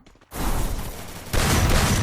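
Rapid shotgun bursts from an M1887 erupt after a brief quiet moment in the game Free Fire, dense and loud, growing even heavier near the end like a sustained firefight.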